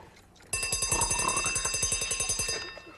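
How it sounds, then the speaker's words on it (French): A mechanical alarm clock rings loudly up close, its bell hammering in a fast steady rattle for about two seconds before cutting off. "Ah, il a besoin d'un réveil matin."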